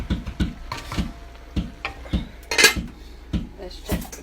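A spoon clanks and scrapes inside a pot while kale and cabbage cooking in beef broth are stirred, a series of irregular metallic knocks spaced about half a second apart, close and fairly loud.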